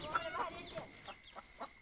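A hen gives a few soft clucks, a short uneven series of notes heard close by with quiet background noise.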